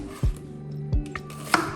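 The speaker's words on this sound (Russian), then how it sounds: "И вот такой у меня большой лук." Three sharp knife chops through a large onion on a cutting board, spaced apart, with light clinks of kitchenware between them in a quiet home kitchen.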